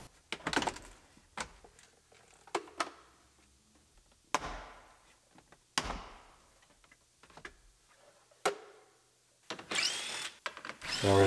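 Screws removed with a drill from the dash of a 2015 Chevrolet Silverado during a cab teardown: scattered short drill whirs and clicks with quiet pauses between, then a busier rattling burst near the end.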